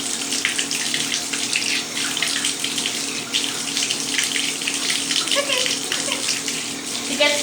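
Tap water pours steadily into a bathtub while a dog is being washed, a loud close continuous rush with small splashes, and people talk softly over it now and then.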